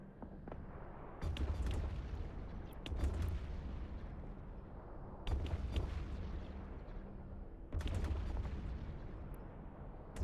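Gunfire and artillery shooting in EVE Online, the Guristas Troop Rejuvenation Camp, come as four heavy low booming bursts spaced a few seconds apart over a steady rumbling space-combat background.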